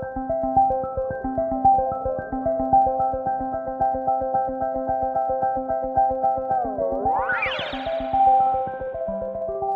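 A repeating KORG MS-20 synthesizer arpeggio of quick, even plucked notes with reverb and delay giving a long echoing tail, and a pitch-sweeping rise near the end before settling back.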